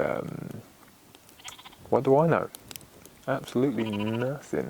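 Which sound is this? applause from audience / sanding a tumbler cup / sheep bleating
sheep bleating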